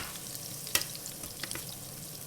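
Mushrooms fry in a pan with salt and pepper added, a soft, fairly quiet sizzle with a sharp clink near the start and a few light scrapes and taps.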